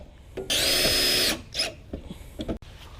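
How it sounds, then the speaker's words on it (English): A power drill whirs loudly in one sustained burst as a self-tapping screw is driven, followed by a brief second spin and some handling clatter. "I am gonna drill some good old self-tapping screws right here."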